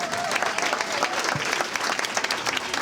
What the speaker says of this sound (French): Et mon équipe, je vous demande vraiment de les applaudir.